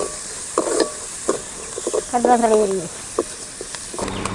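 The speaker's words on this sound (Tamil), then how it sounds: "ஒரு கப்பு வெங்காயம் நல்லா வணங்கட்டு நல்லா பொன்னிறமாக வணங்கணும்" Chopped onions sizzle in hot oil in a village kitchen, a constant frying hiss with occasional stirring scrapes, while someone talks over the cooking.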